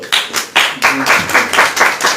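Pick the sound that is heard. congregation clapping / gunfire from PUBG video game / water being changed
congregation clapping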